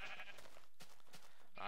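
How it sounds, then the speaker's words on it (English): A sheep in a video game gives a short bleat that rises sharply at the end, heard over quiet game background sounds with no talking. "Ooh, sheep."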